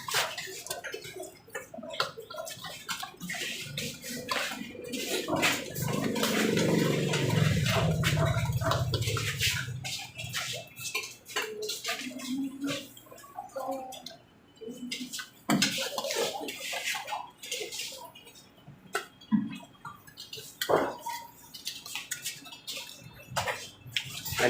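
Water running and splashing into a container as water is fetched, a steady gush for several seconds before giving way to scattered clatters, knocks and drips nearby.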